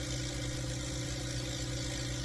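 A modified HMT 3522 tractor engine pulls under load, a steady, loud low-pitched drone with a rough throbbing rhythm that continues throughout.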